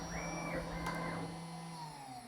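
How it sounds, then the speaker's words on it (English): During a rapid move, a CNC machine's motor whines through rising and falling tones, with a brief bang midway, all heard faintly. "I'm gonna wait for the rapid move because that's where usually the motor sounds"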